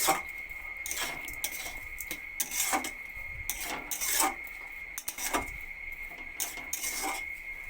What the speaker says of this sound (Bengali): চিনিটা দেওয়ার পরও আবারও নাড়িয়ে নেবো চিনিটা গলে যাওয়া পর্যন্ত